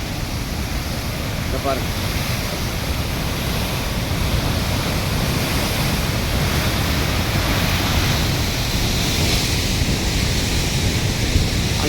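A waterfall's broad, steady roar of rushing water fills the scene along the Snowy Mountains tour route, constant and loud with some wind buffeting the microphone, while someone speaks briefly over it.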